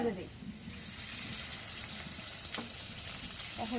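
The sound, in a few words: oil poured into a frying pan (kadai), sizzling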